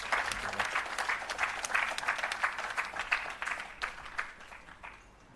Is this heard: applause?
yes